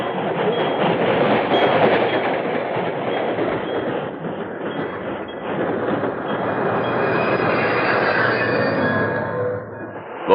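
A westbound train rolls along as a sound effect in a 1953 Lone Ranger radio drama, a steady rumbling clickety-clack of wheels on rails with faint metallic squeals, heard alone at moderate loudness.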